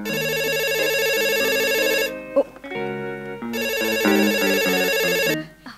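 A telephone ringing with a melodic electronic ringtone, loud and close, in two repeating bursts separated by a short pause.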